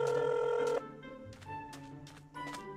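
A phone rings while calling a friend in Minecraft, a steady electronic ringing tone that pauses and repeats in short bursts.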